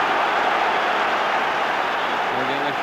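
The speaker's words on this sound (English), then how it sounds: "And again a huge roar goes up from the crowd" Football stadium crowd at a 1992-93 Champions League match between Rangers and CSKA Moscow roaring steadily and loudly throughout, a dense continuous wall of noise.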